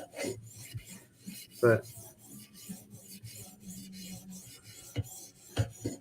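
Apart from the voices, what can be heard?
sharpening a blade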